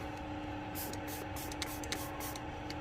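Leak detector fluid is sprayed onto a gas test nipple during a boiler service, a steady close hiss with soft crackling and no talk.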